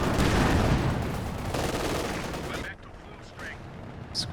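Rocket barrage from a Katyusha launcher in Company of Heroes 2, a dense rumbling roar of overlapping blasts that fills the first three seconds, then thins to scattered whooshes and faint distant pops.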